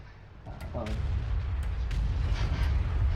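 A heavy Maus tank shell strikes an E-100 tank in World of Tanks, a sharp booming impact followed by a sustained loud rumbling of battle noise and engine drone.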